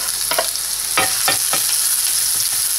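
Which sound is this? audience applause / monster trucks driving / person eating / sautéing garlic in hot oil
sautéing garlic in hot oil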